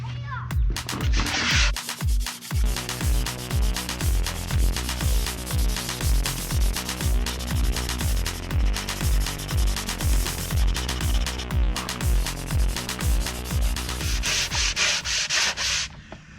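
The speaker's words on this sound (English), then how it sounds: "All right, so now that I took this piece of plywood, what I'm gonna do is I'm gonna sand it down." Sandpaper rubbed by hand across a plywood board, steady rhythmic back-and-forth scraping strokes, close and loud, continuing throughout without pause.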